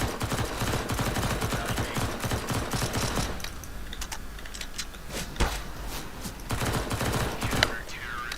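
Gunfire in the video game CS:GO, rapid bursts of sharp shots crackling for about three seconds and then sparser single reports, fairly quiet behind the game's background sound.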